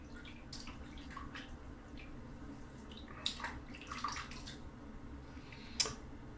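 Water splashing and dripping while rinsing during a wet shave, quiet scattered splashes and trickles over a low steady hum, with a couple of sharper splashes.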